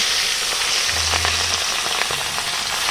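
Pieces of scaleless pangas fish fry in hot oil in a kadai, giving a steady, close sizzle and crackle throughout, with a low hum briefly underneath.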